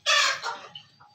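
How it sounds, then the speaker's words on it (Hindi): A broody hen that has been sitting on five eggs, now walking about outside, gives a sharp loud cluck followed by a few softer, trailing clucks, close by with no talking. "अभी मुर्गी बाहर फिर रही है।"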